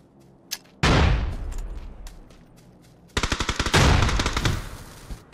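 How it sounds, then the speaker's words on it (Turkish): Gunfire in PUBG, a lone shot followed by a loud booming blast that decays, then a rapid burst of automatic fire and another heavy boom, close and loud with no voices. "Bana sıkıyorlar"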